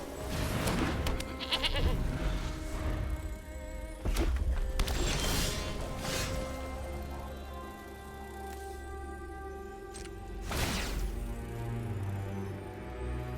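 A goat bleats in the Magic: The Gathering Arena card game, set against a busy backdrop of game music and interface chimes, with several short bleating calls spread across the passage at moderate loudness.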